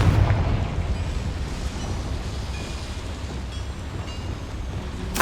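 A Confringo fire blast spell in Hogwarts Legacy, cast inside a small mine, gives a deep, sustained rumbling roar that rolls on for several seconds with a sharper crack at the very end.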